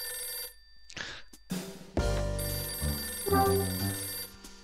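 A phone rings in the video game Last Window, a bright repeated electronic bell with several trills in a row, loud and close, with no voices over it.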